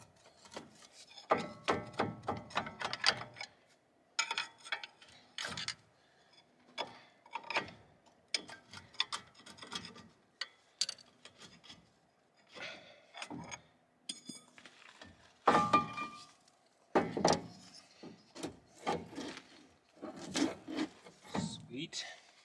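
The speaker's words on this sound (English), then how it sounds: "Take a fat screwdriver and a pry bar, try to work that guy out." A fat screwdriver and pry bar scrape, grind and knock against a part on the brakes of a 1998 GMC K3500 dually, in irregular close bursts of rubbing and ratcheting clicks separated by short pauses.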